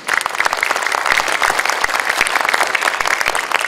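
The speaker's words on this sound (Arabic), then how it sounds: "بكل مواصفاتها الجمالية تحتاج إلى تصفيقة قوية" At a nasheed festival, an audience breaks into dense, sustained applause, loud and continuous, with many hands clapping together in a hall.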